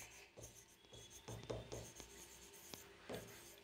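Chalk or marker scratching across a board during a maths lesson, a few short rubbing strokes with pauses between, fairly faint in a quiet room.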